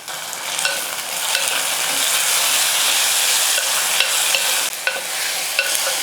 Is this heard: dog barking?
no